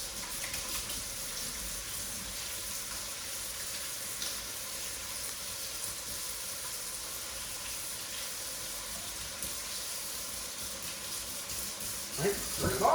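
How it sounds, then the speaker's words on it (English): Tap water runs steadily in a kitchen while hands are washed during chili cooking, a soft even hiss lasting throughout with a few louder splashes near the end. "So I move that to the side, wash my hands really well."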